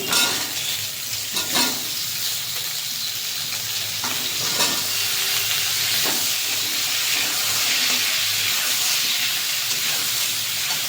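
Chopped ingredients drop into a hot pan of oil for a snakehead fish curry with potatoes, setting off a loud, steady sizzle and hiss that carries on throughout, with a few soft clinks of stirring and no voices.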